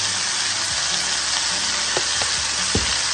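Meat browning and searing in a pan for Cajun collards, a steady close sizzle filling the whole stretch with a few soft knocks and stirring scrapes.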